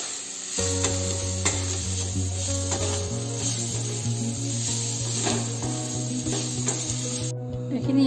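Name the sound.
stirring chicken with spices frying in a pan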